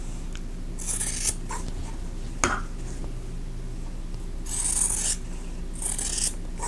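Scissors trim a fabric folded-star quilt block, leaving a quarter-inch seam allowance, in a few short, rasping bursts of cutting separated by quiet pauses.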